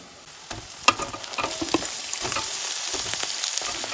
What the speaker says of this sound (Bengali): চিকেনটাও তেলের সাথে এবার একটু ভেজে নেব